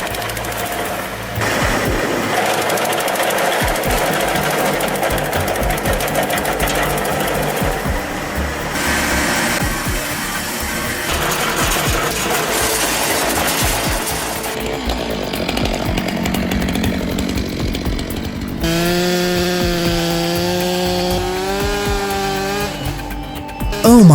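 Big chainsaw cutting through tree logs during stump removal, a loud continuous high-revving whine that bogs and changes pitch partway, then a steady tonal drone as the saw jams near the end.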